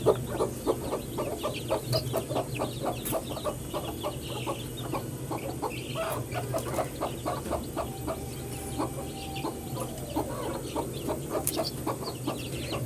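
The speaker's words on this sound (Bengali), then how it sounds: "এখন আমি এই ফিডটা হচ্ছে দিব আমার গলাচিলা মুরগির বাচ্চাগুলাকে।" Golachila chickens and their chicks cluck steadily at feeding time, a dense, continuous chorus of short repeated calls close by with no talking.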